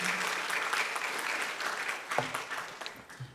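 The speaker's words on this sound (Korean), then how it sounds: "주님께 영광의 박수 올려드리는 것입니다." A church congregation claps in praise to God, a faint, steady patter of applause in a large hall, with a few brief voices breaking through near the end.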